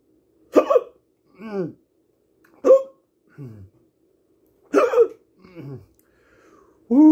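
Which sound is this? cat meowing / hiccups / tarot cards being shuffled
hiccups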